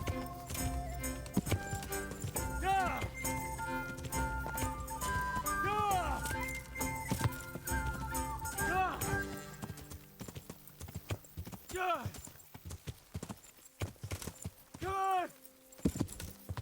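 A horse's hooves clip-clop at a steady walking rhythm in the video game Kingdom Come: Deliverance, heard alongside game music and someone talking over it.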